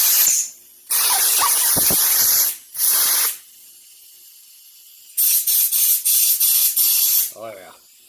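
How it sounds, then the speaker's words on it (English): Compressed air blasting in loud, close bursts during a 1997 Vespa P200E rebuild: long sprays, then a run of short rapid puffs, with a brief voice near the end. "Nothing like good old compressed air."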